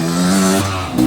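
A Beta motorcycle revving hard as it climbs, its engine note holding steady and then dropping in pitch before surging back up, close and loud over the whole short burst.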